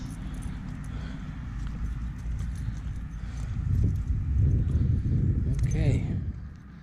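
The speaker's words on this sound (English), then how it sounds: "Couple horses in the field over there." Horses in a field clip-clop steadily at a moderate distance, with a brief whinny near the end over low outdoor rumble.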